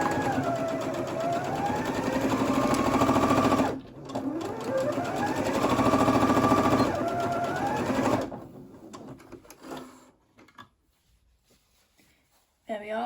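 An electric sewing machine stitches fabric pieces together for a knot headband in two steady runs of rapid whirring stitches, with pitch rising and falling as the speed changes, then stops near the end with only faint handling sounds.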